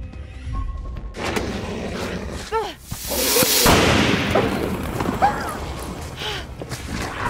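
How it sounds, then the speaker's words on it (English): A firecracker bursts in the horror game The Quarry: a sharp pop followed by a loud, sustained crackling roar, with a brief yelp heard before it. "That firecracker saved Caitlin!"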